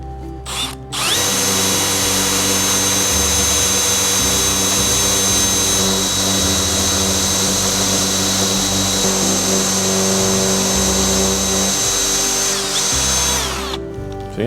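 A power drill spins a teak dowel through a drilled hole that shaves it to size, a loud steady whine that starts abruptly, runs with small shifts in pitch for about thirteen seconds, then winds down.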